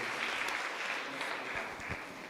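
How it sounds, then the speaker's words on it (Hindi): A church congregation applauds loudly for the glory of Jesus, thick continuous clapping filling the room, with a few low thumps and a faint voice briefly under it. "ज़ोरदार ताली बजा देंगे यीशु की महिमा के लिए"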